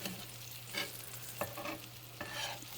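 Green tomato slices fry in a pan with a steady hiss, broken by a few short scraping stirs and bursts of louder spitting, close and fairly quiet with no talking.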